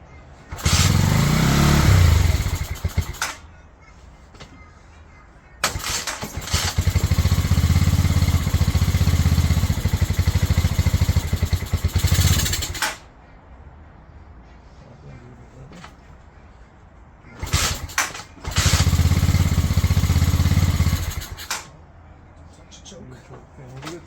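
A Pioneer Nevada 125cc motorcycle engine is kicked over repeatedly, sputtering into short loud bursts of running that die away between attempts.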